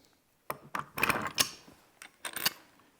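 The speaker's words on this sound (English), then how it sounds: "So now we can go ahead and slide this bolt into place." Bolt with spacer washers slid into place on a shop-built plywood belt sander, giving a short run of close metallic clicks, scrapes and rattles in quick bursts, fairly faint, with no talking.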